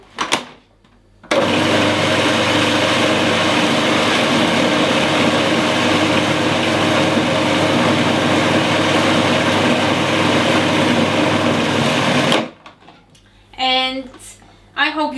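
A food processor blends basil and mint into vegan pesto, a loud steady whirring motor running nonstop for about eleven seconds before cutting off, followed by brief speech.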